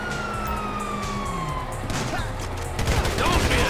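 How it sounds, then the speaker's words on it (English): Police sirens wailing in GTA V, a rising and falling tone in the distance that grows louder and busier toward the end, mixed with bursts of gunfire-like crackle and faint voices. "You hear that? Sirens!"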